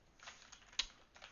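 A handful of faint, light taps on a computer keyboard, scattered clicks in a quiet room with no talk.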